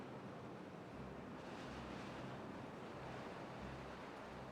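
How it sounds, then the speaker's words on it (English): Water rushes steadily through an opened floodgate in the beaver colony game Timberborn, a continuous broadband wash like surf with low rumbling swells, loud and even throughout with no talking. "So I am going to open this up just one more time. Let some more water in here."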